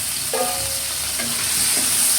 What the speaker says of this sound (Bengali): ভেজে নিব, নাড়াচাড়া করে ভেজে নিব।